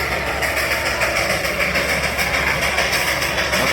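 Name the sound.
train running at Batasia Loop, Darjeeling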